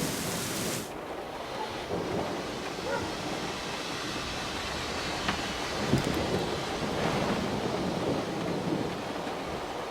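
A thunderstorm in the video game Syberia: The World Before brings rolling thunder over steady rain. The storm stays loud and continuous, with a sharper crack midway.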